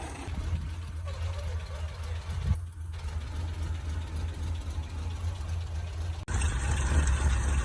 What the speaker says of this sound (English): it's idling a little different than it was this morning